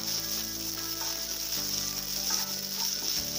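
Onions and ginger-garlic paste fry in a pan, giving a dense, continuous sizzle with a steady hiss throughout and a faint mechanical hum underneath, no voices.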